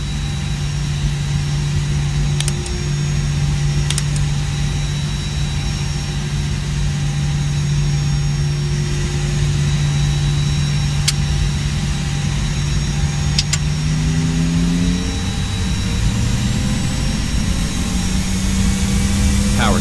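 Airbus A320neo jet engines spooling up to takeoff power in the X-Plane 10 flight simulator, a steady loud whine and hum that stays level for most of the clip, then shifts and climbs in pitch near the end, with a few brief clicks.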